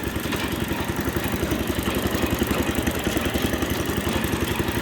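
A worn small engine that puffs blue smoke runs steadily, driving a wood elevator with a fast, even thumping chug and a whirring mechanical clatter, loud and close with no voices.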